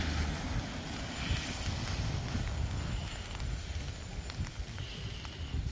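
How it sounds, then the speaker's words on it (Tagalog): Strong wind and steady rain outdoors in a rainy season, a continuous broadband roar with low gusty rumble, close and loud throughout, with no talk. "Lumalakas-lakas na ang ulan at hangin."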